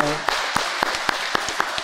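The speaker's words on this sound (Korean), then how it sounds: "박수하겠습니다." Members of a church congregation clap during a Sunday service, a short series of distinct, evenly spaced claps over a faint room murmur.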